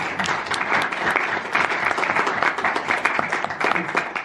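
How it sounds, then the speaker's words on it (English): A room full of people applauds the organizers at a discussion event on reserves and crypto, a dense, steady wash of clapping that runs for several seconds with no talk over it. "So maybe please applause for putting this all together."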